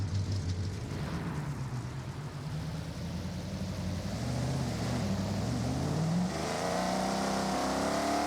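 A Falcon car engine in a racing video game revs steadily, its loud drone climbing in pitch toward the end as it accelerates, heard alone without talk.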